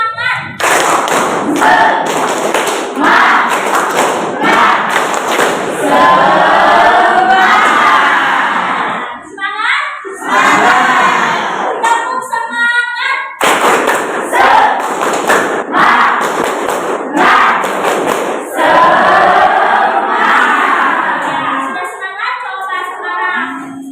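A crowd at a UKIN PPG Daljab teacher-training event at UIN Sunan Kalijaga performs the tepuk semangat chant, loud rhythmic clapping and thumping mixed with shouted group voices, continuous for most of the stretch with a brief dip near the middle.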